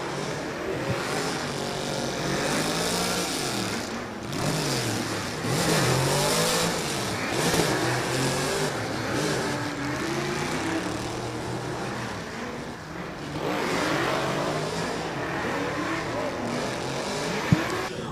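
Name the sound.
drift car engine revving as it takes off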